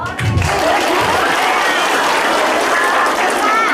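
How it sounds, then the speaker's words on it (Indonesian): Mosque audience applauding during an Islamic lecture in Hong Kong, a dense, steady wash of many hands clapping at close range for several seconds, with a brief voice murmur at the start. "Apa tidak tepuk tangan?"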